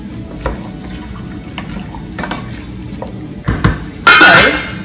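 A utensil stirs salt and turmeric powder into a sweet potato and chickpea curry in a pot, with soft scraping and clinks against the pan and a louder wet, sizzling clatter near the end.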